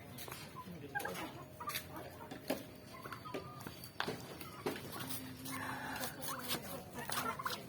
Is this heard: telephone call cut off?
no